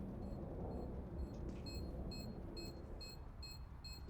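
A video game bomb, planted during a league grand final match, ticks down with a run of sharp, evenly spaced electronic beeps sitting over a constant low ambient hum.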